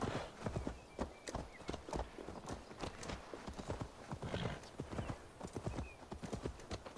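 In the video game Assassin's Creed Valhalla, a horse's hooves clop in a steady walking rhythm close by, with a whinny breaking in partway through, all fairly quiet and continuous.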